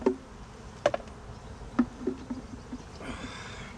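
Honey bees hover around an opened hive feeder, a quiet, steady insect buzz broken by scattered small clicks and knocks, with no talking.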